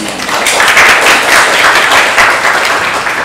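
Audience applause at an opening ceremony for a civic education conference, a steady dense wash of many hands clapping, loud and sustained throughout with no gaps.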